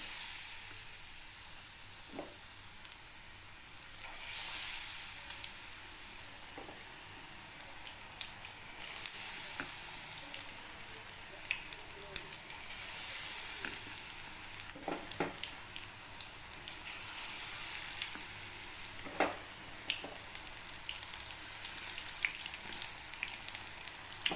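Snake gourd bajji deep-fry in oil, producing a long, even bubbling sizzle with scattered crackles and occasional faint clicks, at moderate volume, with no talking.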